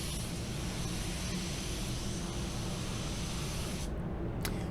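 A spray gun lays down the first coat of clear on a car, a steady, close hiss of atomized spray that runs continuously and cuts off abruptly near the end.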